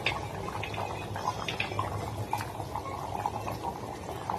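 Water and vegetables simmer in a pot while making a rasiya dhokla dish, giving a soft, continuous bubbling with small pops and gurgles throughout, fairly quiet and close with no talk.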